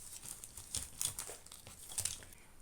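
Material for a cabinet-of-curiosities furniture kit is cut with soft crinkly, tearing crackles in several quick bursts, close and fairly quiet, with no talking.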